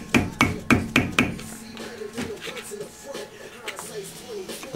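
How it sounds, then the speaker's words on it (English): A screwdriver tapping a wheel bearing cap off a Toyota AE86 hub while the rotors come off: four sharp metallic taps in quick succession, then softer scraping and handling noises under quiet talk. "We'll do this by wedging a screwdriver basically in between there and tapping it off softly."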